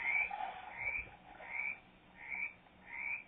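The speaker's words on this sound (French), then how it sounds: "Non, pas les grenouilles." Frogs in a forest survival video game croak in a steady, repeating rhythm, about five rasping calls spaced evenly apart, at moderate volume with no voices.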